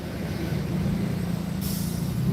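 Large bus passing close on a narrow road, a steady loud engine rumble and road roar that holds throughout, with a brief hissing burst near the end.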